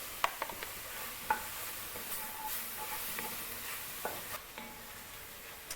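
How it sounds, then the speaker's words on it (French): Beef browns with paprika in a pan, a faint steady sizzle with occasional light clinks and scrapes of a spoon stirring the meat. "on a fait rissoler avec le paprika"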